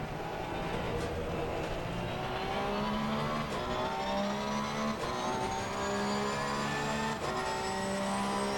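Porsche 911 GT3 R race car engine in Assetto Corsa Competizione, a steady loud drone with rising revs through the gears, brief dips at each shift, continuous throughout.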